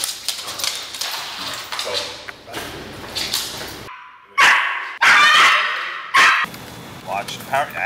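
Several dogs bark and yip in sharp, irregular bursts, some close and loud, with whimpers and people talking in between.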